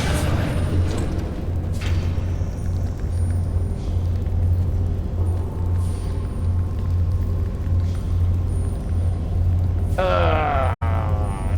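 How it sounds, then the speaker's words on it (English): Deep, continuous rumble of cars in Skyrim, like game engine noise, with a loud whooshing burst and a brief cutout near the end. "Sounds like cars."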